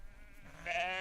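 A sheep bleats once, a wavering, harmonic call that starts softly and swells louder toward the end, heard close and alone.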